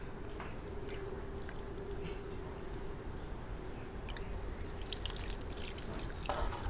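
Water pours steadily into a cooking pot for Spanish-style bangus in a pressure cooker, a continuous close splashing stream lasting several seconds.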